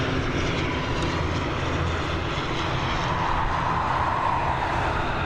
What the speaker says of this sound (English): here we've got the ATR 72600 with the old Aer Lingus livery